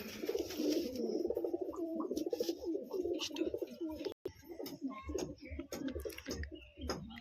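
Pigeons of the Ablak breed cooing in a loft, a steady rolling coo running throughout with brief chirps and faint talk in the background.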